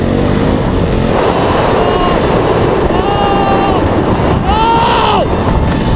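A KTM motorcycle engine runs again after a restart on a road ride, its revs rising and falling in a few sweeps beneath a loud, steady roar of wind and road noise.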